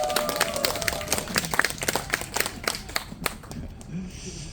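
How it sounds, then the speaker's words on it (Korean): An outdoor candlelight rally crowd in Sydney gives a burst of scattered clapping, loose and uneven, that thins out toward the end. Some voices and outdoor background sounds mix in. "다시 한번 박수 부탁드립니다"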